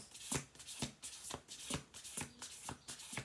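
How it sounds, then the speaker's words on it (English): Deck of oracle cards shuffled by hand, a quiet, close riffling repeated in regular bursts roughly every half second, with no talk. "We're going to do two more shuffle throughs on this."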